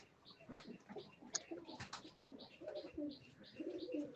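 Pigeons kept in cramped conditions coo softly and shuffle while feeding, with scattered wing flutters and faint pecking, close by and fairly quiet.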